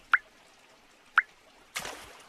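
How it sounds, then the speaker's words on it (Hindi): Water drips while flood water is bailed out of a house with buckets in a Hindi cartoon: two sharp single drops, then a short splashy pour near the end, with no talk. "सभी बाल्टी की मदद से घर से बाहर पानी निकालने लगते हैं।"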